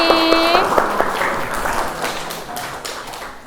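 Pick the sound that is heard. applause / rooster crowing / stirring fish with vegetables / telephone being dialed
applause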